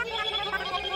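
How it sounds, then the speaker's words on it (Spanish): Telephone ringing in the video game Animal Crossing New Horizons: a steady, close electronic ring with layered tonal trills running continuously through the short moment, no voices. "Ahí está mi teléfono otra vez."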